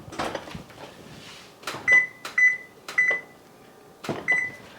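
An oven is set for baking a pumpkin pie at 425 for 15 minutes: a handful of short clunks and taps, then four distinct electronic beeps in an irregular rhythm, close and clear in a quiet kitchen.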